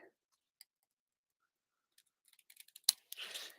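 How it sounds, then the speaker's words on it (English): Quiet snips and small clicks build into a quick series of scissor cuts through paper, ending in a brief rustling slice, close and faint. "We can do it with scissors."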